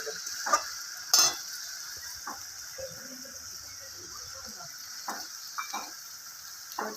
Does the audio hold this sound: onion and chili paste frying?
yes